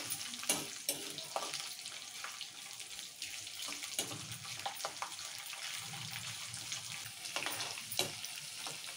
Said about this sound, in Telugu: 2 నిమిషాలు ఇట్లా కలుపుకుందాము.